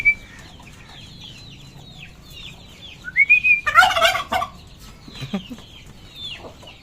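A turkey gobbles in a rapid rolling burst amid chirpy whistles and bird calls on a rooftop, with other fowl calling around it; no speech.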